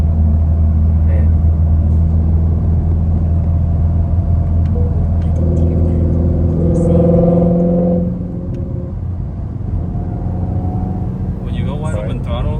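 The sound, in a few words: twin turbo Ford Mustang GT350 engine at wide open throttle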